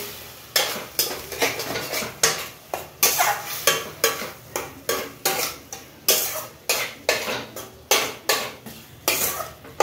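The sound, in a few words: stirring tomato puree with fried onion and ginger in a pan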